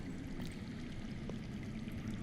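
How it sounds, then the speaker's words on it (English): Underground water rushes steadily in a Game of Thrones game, a low, continuous watery murmur heard faintly and alone, with no voices. "I hear water. From underground."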